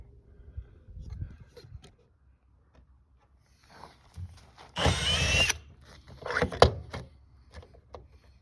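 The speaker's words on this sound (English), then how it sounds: "Let's drill it the right size." A power drill bores a hole while framing the walls of a Harbor Freight square drop camper, with a loud burst of roughly one second near the middle, then a second shorter whir, amid quieter handling noises.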